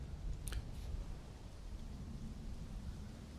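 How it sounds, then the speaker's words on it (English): Steady rain and a rumbling thunderstorm in the video game LEGO Fortnite, a continuous low wash with a brief crackle of thunder near the start, no voices. "this looks beautiful there in the rain too"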